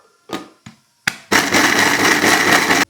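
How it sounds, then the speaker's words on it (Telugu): A few soft knocks and clicks, then a mixer grinder roars to life and runs at full speed, blending a mushroom and mealmaker mixture with pepper powder and coriander. The motor whine is loud and steady, close by. "ఇప్పుడు దీన్ని మనం మిక్సీ పట్టుకోవాలి"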